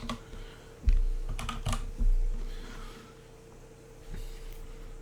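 Keys on a computer keyboard clack in short irregular bursts, followed by a few heavier thumps and quieter stretches, close and without speech.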